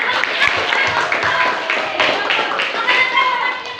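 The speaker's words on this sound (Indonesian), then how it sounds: "Wih, tepuk tangan" Classroom applause during a school lesson, loud clapping bursts mixed with children's voices and chatter.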